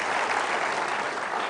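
A studio audience at a televised talk show breaks into steady applause, a dense wash of clapping that holds evenly throughout, close and full, with no voices over it.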